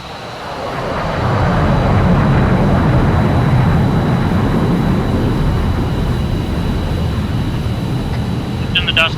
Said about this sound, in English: F-22 is clear to take off.